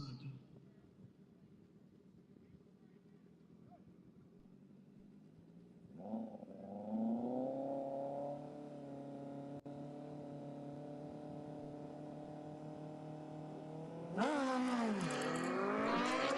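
A Kawasaki motorcycle launches at a local drag race, its engine note rising through the gears from a distance, then swelling sharply louder near the end over a quiet backdrop.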